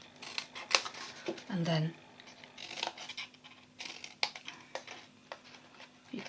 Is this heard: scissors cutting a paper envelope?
yes